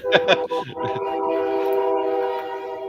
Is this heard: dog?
no